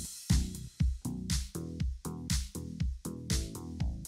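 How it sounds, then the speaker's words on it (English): Layered 80s-style FM bass and pop bass synths play a bouncy melodic line, each quiet note opening with a bright, percussive attack before a short decay, in an even rhythm with no talking. "I added two more, an 80s FM bass attack and 80s pop bass together."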